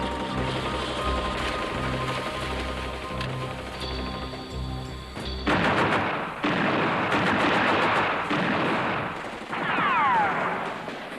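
Gunfire in a dramatized battle scene: bursts of loud, rapid shots begin partway through the clip and crackle over a rumbling, noisy backdrop in several waves.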